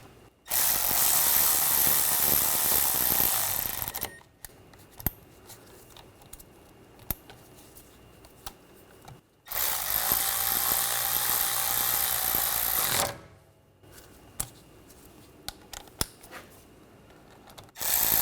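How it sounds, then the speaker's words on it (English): A powered ratchet tightens bolts on a rear passenger CV axle of a 2009-2013 BMW 328i xDrive 3.0L inline-six in two loud, several-second whirring bursts, with quieter clicks and clinks between them. "Try to alternate back and forth. Tighten it down evenly."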